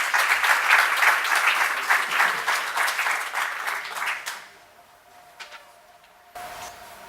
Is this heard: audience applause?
yes